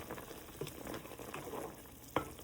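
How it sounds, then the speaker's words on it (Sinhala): Spicy Sri Lankan chicken curry simmers in a pot with soft, continuous bubbling, joined by a few light clinks and a sharper tap near the end. "මේ බලන්නකො මස් එක හොඳට තැම්බෙන විදිය."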